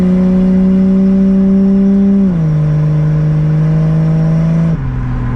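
A turbocharged 2JZ engine in a Lexus IS300 pulls hard through the gears, a loud, steady engine drone that drops in pitch at each of two upshifts, recorded from inside the car.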